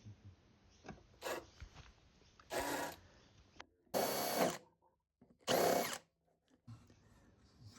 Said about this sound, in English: It will also help if you're able to countersink the hole under the fitting as well.